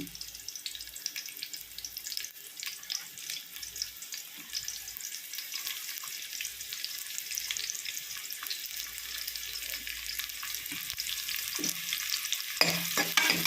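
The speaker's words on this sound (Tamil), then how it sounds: "எண்ணெய் ஊற்றிட்டு முதல்ல வெங்காயம் போட்டு வதக்கிட்டு" Onions sautéing in oil in a pan for fried rice give a continuous soft hiss and crackle that builds slightly toward the end, fairly quiet, with no voices.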